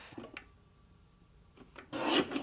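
A paper trimmer slicing scrapbook paper: a short rasping, scraping cut that swells near the end, preceded by a few faint rubs and taps, close and quiet, with no talking.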